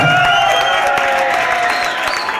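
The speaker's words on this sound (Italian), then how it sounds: "fate l'applauso per questa roba" Live show crowd at Neworld in 2012 applauding and cheering, with scattered whoops and sustained tonal sounds from the stage running underneath the clapping.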